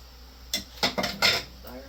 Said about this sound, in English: all the utensil clanging is loud in your ears